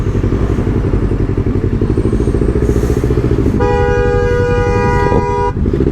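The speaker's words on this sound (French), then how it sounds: "le bordel que c'était, ça klaxonnait de partout." Car horns blare in busy French traffic heard from a Kawasaki Z900 motorcycle, a long sustained honk over a loud, close, rumbling engine, with other horn toots scattered briefly before it.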